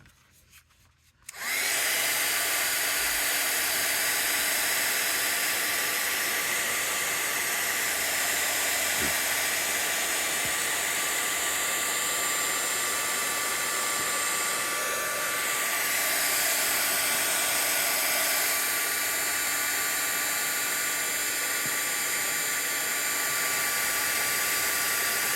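A heat tool for gold embossing powder runs steadily for about 24 seconds, a loud, continuous blowing whir like a hair dryer that starts abruptly after a brief quiet moment and holds constant.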